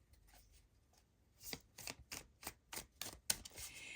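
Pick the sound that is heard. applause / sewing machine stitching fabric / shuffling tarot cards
shuffling tarot cards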